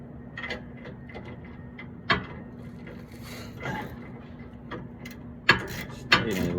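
A ratchet snugs 14 mm bolts on a Rough Country dual steering stabilizer on a 1992-96 Ford F150: quiet, irregular bursts of clicking with a few sharper knocks near the end, over a steady low background hum.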